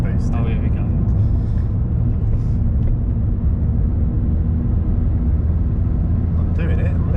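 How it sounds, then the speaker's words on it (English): From inside the cabin, a Ford Fiesta ST with an RT330 tune drones loudly and steadily as the turbo engine is held against the brakes for a boost launch, with a voice briefly heard over it. "Should we see if I can do this brake boost?"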